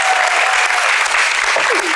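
A television studio audience on a Turkish late-night talk show breaks into loud, dense clapping, a steady close wash of applause filling the whole moment.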